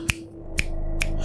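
Three crisp finger snaps, made with both hands at once, ring out at a steady half-second spacing, sharp and close, with no voices.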